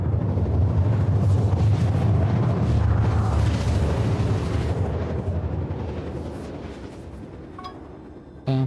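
Ship cannons fire in the space game Star Citizen: a dense, loud, rumbling barrage of booms that gradually fades, followed by a short burst of interface beeps.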